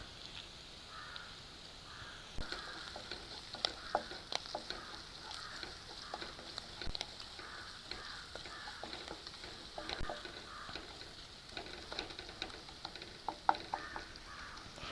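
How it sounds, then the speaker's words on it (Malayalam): Continuous sizzling of curry leaves in hot oil, with intermittent stirring clicks and a crow cawing in the distance. "ഞാൻ അതിലേക്ക് കരിവേപ്പില ആഡ് ചെയ്യാണ്."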